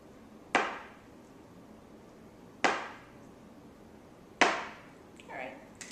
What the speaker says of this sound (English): then I'll cut the slabs up into some strips